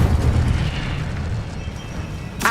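Fire spell cast in Hogwarts Legacy: a loud, sustained roaring whoosh of flame with deep rumbling body, easing slightly midway, then a sharp bright burst at the very end.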